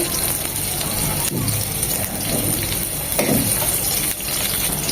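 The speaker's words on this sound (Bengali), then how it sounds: "তেলটা গরম হয়ে এসেছে দিয়ে দেবো এক চামচ রসুন কুচি" Chopped garlic fries in hot soybean oil in a pan, a continuous close crackling sizzle with occasional stirring scrapes, steady throughout.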